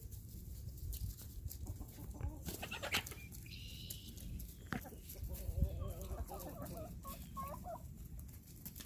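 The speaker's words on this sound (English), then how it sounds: "Get the chickens up here." Chickens cluck and squawk close by, with scattered higher bird calls and rustling movement over a steady outdoor background.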